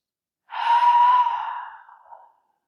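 A single full, deep breath during pranayama practice, heard as a close, airy exhale lasting under two seconds that slowly fades, with no talking.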